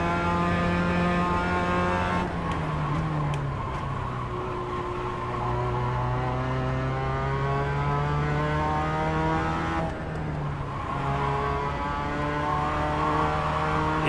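Race car engine in a driving video game, a steady loud drone with gear shifts and rising revs as the car accelerates through a practice session, heard alone without talk.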